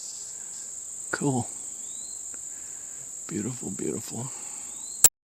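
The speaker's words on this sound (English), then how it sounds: "A cicada hollering in the background." A cicada calls on a forest trail among tall pines along the Coldwater River at Arkabutla, giving a steady, piercing, high buzz throughout. Someone briefly talks over it.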